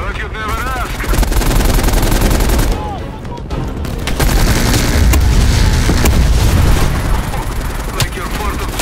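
Sustained machine-gun fire from a vehicle-mounted weapon in a Cold War video game, loud and dense, with booms and a brief lull near three seconds before the rattling bursts resume.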